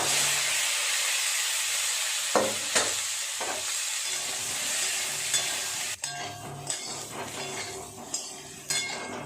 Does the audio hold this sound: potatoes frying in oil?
yes